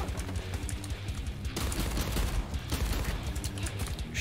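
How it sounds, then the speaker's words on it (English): A pistol in the video game Nightmare Reaper fires rapidly in a continuous dense burst of shots, loud and close, with no talking. "the rate of fire in this pistol is actually"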